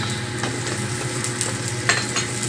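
Garlic and onion sautéing in a pan for pork giniling, a steady close sizzle with scattered stirring scrapes and clicks of a utensil, no voices.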